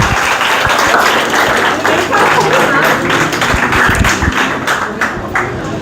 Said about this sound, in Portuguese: uma salva de palmas para essa encenação maravilhosa